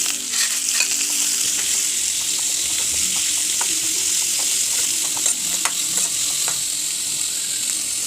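Chopped onion and green chilies are sautéed in a pan, giving a loud, steady sizzle with small crackles and stirring scrapes throughout, close up and without talk.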